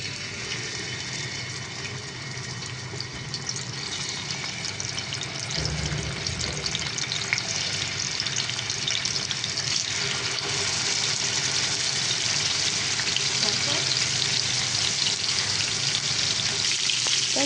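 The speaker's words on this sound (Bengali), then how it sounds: "তো ফ্রাই করার জন্য এখন আমি তেলে দিয়ে দিচ্ছি" Cardamom, cinnamon, bay leaf and a ground ginger, garlic and cumin paste frying in hot oil, giving a steady, dense sizzle that holds throughout, close and fairly loud with no voices.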